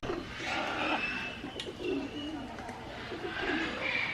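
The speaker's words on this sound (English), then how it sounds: "Got some birds already in here. African gray." Birds calling inside a parrot aviary with an African grey present, a busy mix of squawks, coos and whistles layered at moderate distance over steady crowd murmur.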